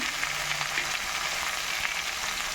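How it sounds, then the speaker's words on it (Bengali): Mixed vegetables fry in a pan with fish head before spices go in, a steady close sizzle with light stirring and no speech. "সবজিগুলোকে একটু ভেজে নিয়েছি এবার একে করে সমস্ত মশলা দিয়ে দেবো"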